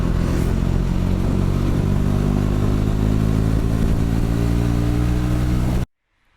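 A KTM Duke 125 motorcycle engine runs steadily and loudly up close while riding, with a constant droning hum and a rough mechanical clatter. It cuts off abruptly near the end, leaving silence.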